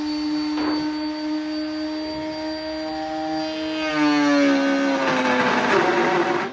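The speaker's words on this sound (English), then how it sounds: "Let's router." A wood router cuts inside a converted ex-Amazon delivery van camper build, giving a steady high motor whine whose pitch wavers and drops as the bit bites, with rougher cutting noise toward the end.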